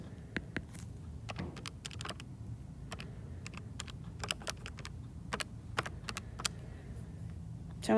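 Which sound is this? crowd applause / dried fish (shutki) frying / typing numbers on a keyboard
typing numbers on a keyboard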